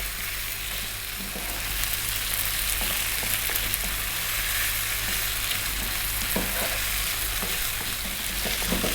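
Kerala-style beef curry sizzles and crackles steadily in a hot pan while being stirred often, with a dense, continuous frying hiss broken by soft scraping and stirring knocks throughout, close and fairly loud, with no talking.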